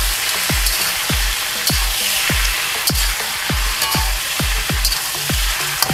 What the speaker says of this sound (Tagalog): tutustayin ko muna siya para mag-brown